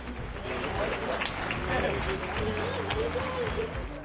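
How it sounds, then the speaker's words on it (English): A crowd in an airport terminal applauds and cheers for returning soldiers, producing steady, dense clapping mixed with voices and ambient hall noise. "The terminal filled with applause as people cheered on the 2-3 BSTB soldiers."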